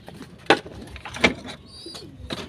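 Pigeons coo close by in a loft, several soft rolling calls spaced across a few seconds, with a light chirp and faint background rustling between them.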